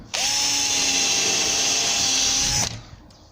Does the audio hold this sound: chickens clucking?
no